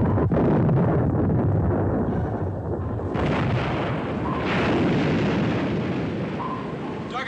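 Depth charges exploding underwater in a WWII destroyer battle scene: heavy, rumbling blasts that roll into one another and fill the whole span, loud and dense.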